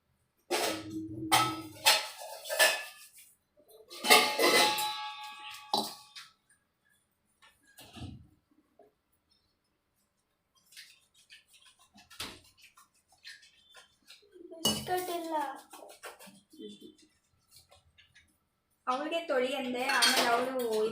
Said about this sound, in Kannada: ಫಸ್ಟು ಸಬೀನಾದಿಂದ ತೊಳೆದು ಚೆನ್ನಾಗಿ ಆಮೇಲೆ ಮತ್ತೆ ಪಿತಾಂಬ್ರಿಯಿಂದ ತೊಳಿತೀವಿ